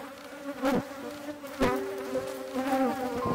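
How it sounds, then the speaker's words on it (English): Honeybees buzzing close by around hives in an apiary in the rain, a droning hum with individual insects swelling louder as they pass near, continuous with no talking. "we are doing our bee management in the apiary while it's raining"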